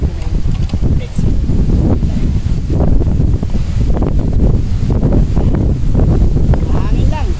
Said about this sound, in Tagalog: Medyo malakas-lakas din ang hangin ngayon, no?